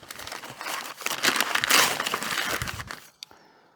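Packing paper being unwrapped from vintage English china, a busy run of close crinkling and crumpling rustles that swell and fade, ending in a sharp crack and a quieter tail.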